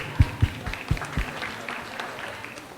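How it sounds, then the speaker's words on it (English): A few heavy, thumping claps ring out at a school diversity festival, then soften into a faint, thin patter of applause that trails away. "Round of applause to you."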